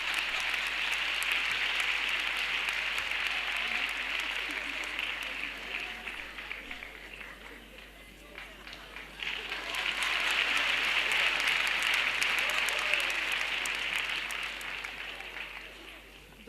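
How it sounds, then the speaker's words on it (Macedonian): A theatre audience applauds in a sustained, dense wash of clapping that dips briefly midway, then swells back up and fades toward the end. "многу еден аплауз, ако можете на крај"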